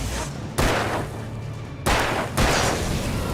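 Three loud, close gunshots ring out at uneven intervals in the Alan Wake video game, each a sharp burst over a steady rumbling background.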